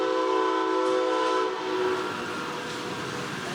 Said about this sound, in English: That's the 4 o'clock train for Chicago.